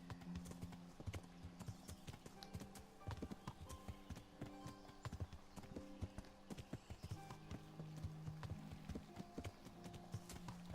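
Horse hooves clip-clopping steadily at a riding pace in the medieval game Kingdom Come: Deliverance, a continuous rhythmic patter of hoofbeats over a layered ambient game soundscape, with a brief whinny.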